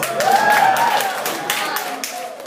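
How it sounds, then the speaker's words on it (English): Clapping from the audience at a Sunday Assembly community gathering in Las Vegas, a patter of hands under a voice and tonal sounds, fading slightly toward the end. "Another thunderous applause."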